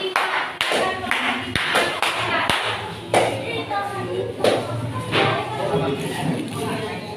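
Scattered, uneven clapping from children in a classroom, with several sharp individual claps and taps standing out over a busy room, and voices talking throughout.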